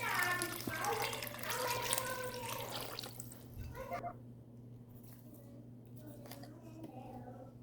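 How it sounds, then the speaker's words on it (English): Chicken broth made from water and chicken bouillon powder pours into a soup pot for Zuppa Toscana, about seven cups in all. It makes a steady, splashing liquid stream that thins out after a few seconds over a low kitchen hum. "at this point, you're going to want to add in chicken broth."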